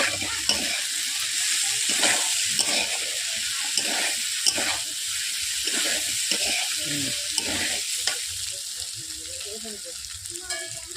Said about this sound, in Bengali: এরপর দিয়ে দিচ্ছি পনির দিয়ে আমি 1 থেকে 2 মিনিট আমি এইভাবে নেড়ে নিচ্ছি